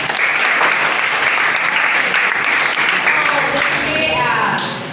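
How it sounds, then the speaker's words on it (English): An audience in a classroom presentation session breaks into full applause, dense clapping that holds steady for several seconds before tapering slightly at the end, with faint voices underneath. "round of applause"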